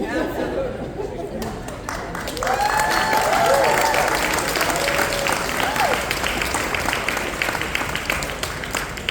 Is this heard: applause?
yes